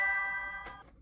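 An electronic ding-dong chime in a video game store, faint with sustained ringing tones that decay within a second, heard alone.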